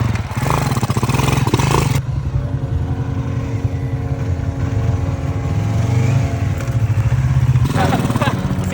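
An old motorcycle engine, loud and close, chugging unevenly with clattering revs that fade and surge as if struggling to stay running, with a voice talking over it.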